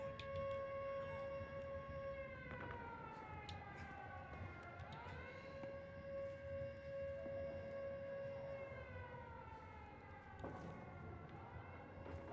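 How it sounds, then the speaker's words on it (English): A wailing siren in the video game Indiana Jones and the Great Circle, rising and falling in long steady sweeps for over ten seconds, fairly faint and continuous with a low background rumble. "Who is this siren for,"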